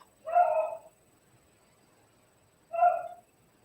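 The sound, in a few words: dog barking in the background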